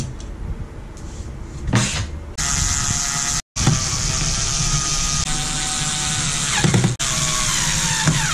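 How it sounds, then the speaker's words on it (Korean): Power-tool whirring while screws that came with a PC power supply are driven into the back of a computer case, a steady close buzz with a brief break midway and no talking. "요 나사로 조이는 게 좋아요"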